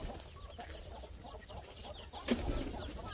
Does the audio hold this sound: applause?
no